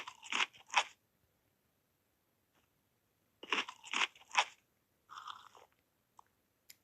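Crunchy food bitten and chewed up close, with two separate bursts of loud crisp crunching divided by a silent pause, then a softer, shorter round of chewing.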